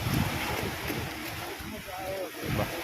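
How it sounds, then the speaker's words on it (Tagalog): Strong typhoon wind roars and buffets the microphone in continuous gusts, with faint voices underneath. "Tapos yung ang lakas ng hangin."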